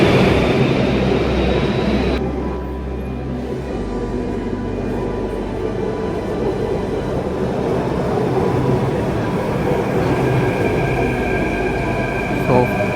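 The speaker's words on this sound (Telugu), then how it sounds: "ఇదే మన కాన్ మార్కెట్ మెట్రో స్టేషన్." Delhi metro train at Khan Market metro station, a loud steady rumble of the train running through, holding evenly for the whole stretch with faint higher squeals near the end and no talk.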